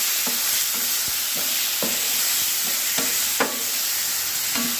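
A spoon repeatedly scrapes and stirs a pumpkin and cowpea erissery mixture in hot coconut oil, with regular close strokes over a soft, constant sizzle.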